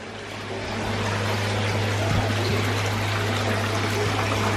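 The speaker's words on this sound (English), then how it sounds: "Got the water from here flowing." Water runs steadily through an aquaponics nursery system, a continuous broadband rushing flow that comes out a bit fast, close and even throughout, with a low steady hum beneath it.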